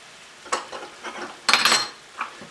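Sardines, pine nuts, tomatoes and fennel seeds are tossed into a hot pan for sardine pasta, giving a few close bursts of sizzling and clattering against the pan, the loudest near the middle.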